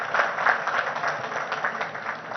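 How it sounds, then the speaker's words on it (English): Applause from an audience at a corporate inaugural event, steady clapping from a crowd that holds at an even level throughout. "I think he deserves a bigger round of applause"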